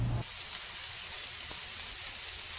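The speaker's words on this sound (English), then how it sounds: "That's the sound of steaks on a grill." Filet mignon steaks on a grill give off a steady, soft broadband sizzle and hiss, faint and continuous with no voices, after a short low thump at the very start.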